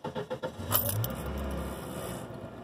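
A 1999 Ford Ranger pickup with a faulty oil pressure reading cranks over in a few quick rhythmic bursts, then catches and settles into a steady, close idle with a low rumble.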